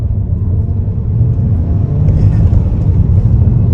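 A 2022 Hyundai Kona N-Line pulls away in normal mode, heard from inside the cabin as a loud, steady low engine and road rumble that swells slightly partway through, with no talking over it.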